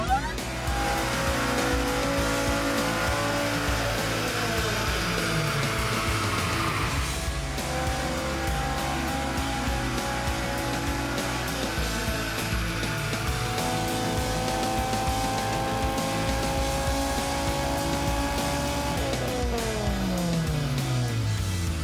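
Naturally aspirated engine on a dyno revs hard and continuously, pitch climbing through repeated sweeps up the range before dropping back, loud and close throughout with no talking.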